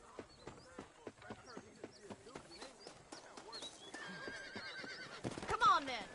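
In Red Dead Redemption, a horse's hooves clip-clop in a steady rhythm, followed by a loud, close whinny near the end, with someone speaking over it.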